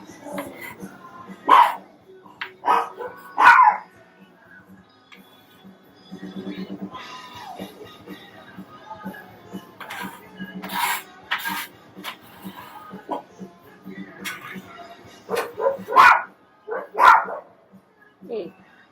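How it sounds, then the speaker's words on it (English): A dog barks in a home kitchen, with several short, sharp barks and yips scattered through the clip between bursts of nearby talk and kitchen clatter. "Hey, no barking."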